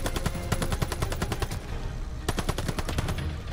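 Rapid automatic gunfire from the video game Call of Duty: Vanguard rattles in two dense bursts separated by a short gap, fairly quiet and without talk.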